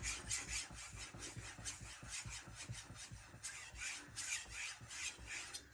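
A knife blade rubs on a 600 grit diamond resin stone, giving a quick run of close, soft scraping strokes in a steady rhythm. No one talks.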